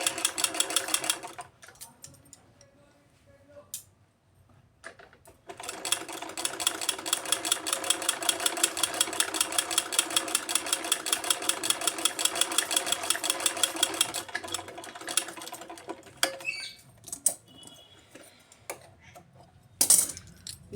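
Sewing machine stitching the curved seam of a blouse (choli), a fast, steady mechanical rattle running in long bursts with short pauses between, close and fairly loud, no talking.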